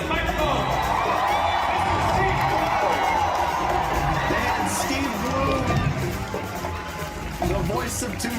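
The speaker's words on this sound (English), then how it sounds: "How about a big round of applause" A convention crowd cheers and whoops continuously for a voice actor's introduction, a loud, dense roar of many voices with scattered clapping blended in.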